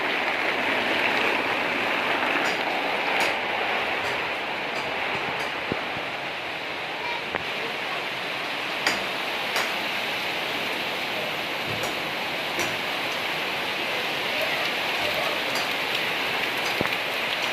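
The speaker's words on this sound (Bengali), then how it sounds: "তো বৃষ্টি হচ্ছে আমাদের এখানে, যেন মনে হচ্ছে যেন আমাদের এখানে বন্যা ঢুকে গেছে ঘরের মধ্যে।" Heavy rain pours steadily indoors and out, water coming in through a house window during flooding; a dense, continuous hiss of falling water with scattered drips and splashes, loud and unbroken throughout, no voices.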